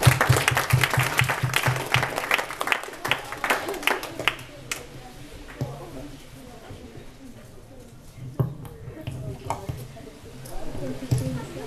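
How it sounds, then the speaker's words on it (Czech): Audience applause in a room, with dense clapping for the first four seconds, then thinning to scattered claps and crowd noise with a few later bursts. "Tak ještě jednou potlesk pro Afrima."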